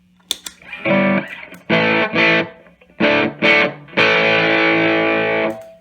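Overdriven electric guitar through a TFA Effects Sultan compressor and a drive pedal, playing sustained chords in separate bursts, the last one held long and ringing out, loud and close with no talking.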